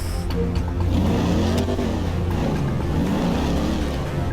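A Liberty Walk-modified BMW M4 in the video game GTA 5 revs in a steady, loud engine drone whose pitch swells and dips, with no talking over it.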